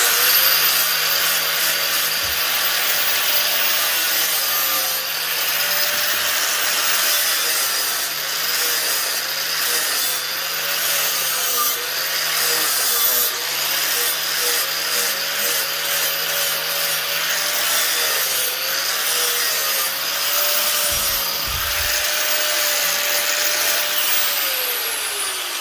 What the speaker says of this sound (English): First, I'm gonna be using my old 7 amp grinder.